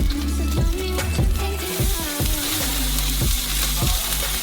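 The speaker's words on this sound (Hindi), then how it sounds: "अगला होगा बेकन। इसे फ्राइंग पैन में भेजते हैं।" Bacon fries in a frying pan with a loud, close, continuous sizzle, broken by repeated rhythmic scraping and stirring knocks about every half second.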